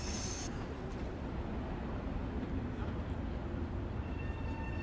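Commuter train in Train Sim World 6 pulling away at a seaside station, a steady low rumble with faint wheel and rail hiss that holds even and continuous throughout.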